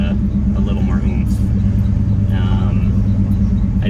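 A 1965 Dodge Dart GT hot rod with a modified, nicely toned exhaust rumbles steadily at idle, a deep, even low drone held close and loud throughout.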